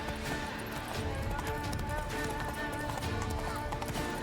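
Horse hooves clop at a steady gallop through a town in The Witcher 3: Blood and Wine, a rapid rhythm buried in dense game music and ambience while a person talks.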